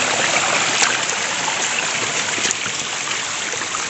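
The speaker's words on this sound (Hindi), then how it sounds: "ये जो छोटे छोटे झरने हैं वो तो आपको अभी थ्रू आउट द रूट मिलेंगे।" A small forest waterfall stream near Bhimashankar rushes in a steady, close, full wash of flowing water, broadband and unbroken, with no voices.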